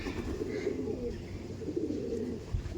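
Andhra pigeons coo steadily at close range, low murmuring calls overlapping throughout with no voices.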